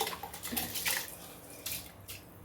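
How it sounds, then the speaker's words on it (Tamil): Faint splashing and trickling of water poured into a pot of rice for ghee rice in short uneven bursts, quiet and close, with no talking. "இன்னும் கொஞ்சம் தண்ணி ஊற்றணும்"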